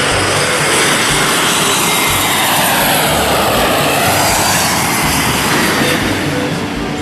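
A Garuda Indonesia airplane's engines roar steadily and loudly, a broad, sustained jet rumble with no talk over it.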